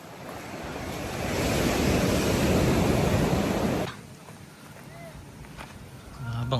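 Ocean waves wash loudly onto the shore for several seconds, then the surge recedes into a quieter wash with wind noise, swelling again at the end.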